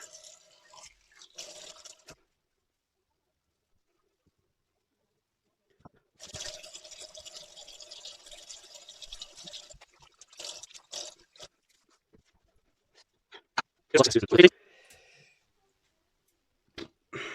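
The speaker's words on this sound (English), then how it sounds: "Face wash with the Mitchell's Wool Fat Hand Soap." Face washing with water and Mitchell's Wool Fat hand soap at a sink: quiet intermittent splashing and rubbing, with a brief louder burst of running water near the end, no talking.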